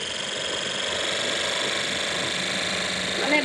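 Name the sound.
motorcycle engine in video game Cafe Racer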